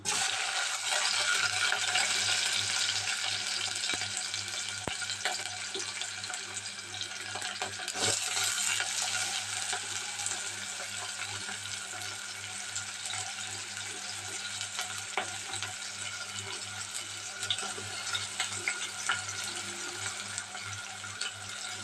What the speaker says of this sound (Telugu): ఇప్పుడైతే పచ్చిమిర్చి ఉల్లిపాయ ముక్కలు అయితే వేసేసుకుందాం